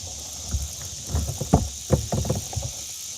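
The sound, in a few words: cicadas singing loudly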